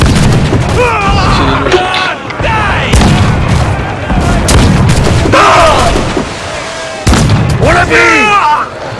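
Ship cannons fire in Assassin's Creed IV Black Flag, several loud booming blasts spaced over the seconds, mixed with someone speaking French and in-game shouting.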